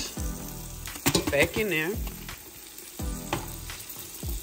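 Sausage sizzles loudly as it is poured into a gumbo pot, a crackling frying hiss with a few bursts while a person talks over it.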